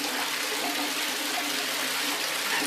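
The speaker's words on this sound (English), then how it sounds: "Our water will not shut off, and it's filling up fast" Water gushing into a bathtub from a tap that will not shut off even with both knobs closed, a loud steady rushing pour heard up close without a break.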